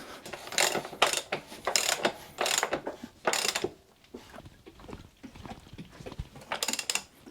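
A rear axle nut on a dirt bike is tightened with a ratchet, giving a fast series of close clicking ratchet strokes, then quieter scattered mechanical clicks and another short burst of ratcheting at the end.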